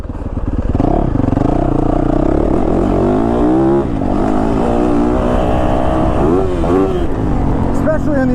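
A 2022 Yamaha YZ450FX dirt bike engine revs hard on the throttle, loud and close, its pitch climbing and dropping through the run, with a voice talking over it at times.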